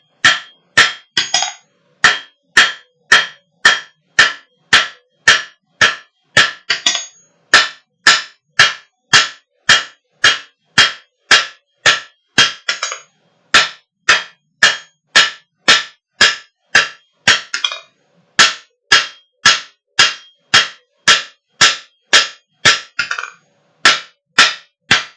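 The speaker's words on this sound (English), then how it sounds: "let the hammer do the work" A blacksmith's hammer strikes hot metal on the anvil while forging, a long run of loud, evenly paced ringing blows, close up, broken by a few brief pauses.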